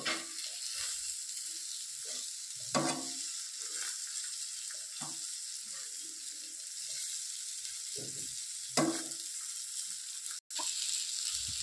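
Fish sizzling gently in a pan over a low flame, a steady soft frying hiss with occasional louder crackles and no talking.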